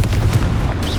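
Confringo fire spell blast in Hogwarts Legacy, a short heavy booming burst with a deep low rumble lasting about a second, loud and close with no talk.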